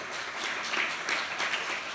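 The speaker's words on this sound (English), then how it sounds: "You guys don't even know why you're clapping" Conference audience applauding as honored attendees stand, a steady wash of many hands clapping that holds for a couple of seconds.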